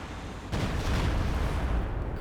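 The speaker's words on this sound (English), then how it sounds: "B4 firing again" A B4 howitzer fires in the Company of Heroes 2 strategy game, giving one heavy, sudden boom. A thick, sustained rumble follows and carries on to the end over steady battle noise.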